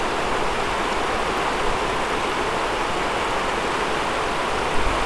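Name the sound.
lahar from Semeru mixed with a local river flowing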